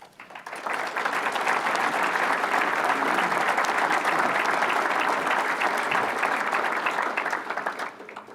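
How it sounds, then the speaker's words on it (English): Sustained, full-bodied applause from a crowd at a police department awards ceremony honoring a community member, rising quickly and holding steady for several seconds before tapering off. "thank you for the applause."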